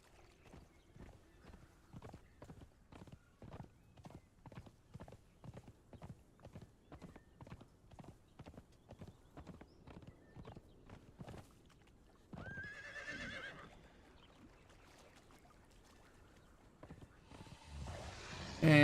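Rhythmic clip-clop of a horse's hooves in the game Conan Exiles, a regular trotting beat at moderate volume, followed by a neigh and then a louder burst of in-game sound near the end.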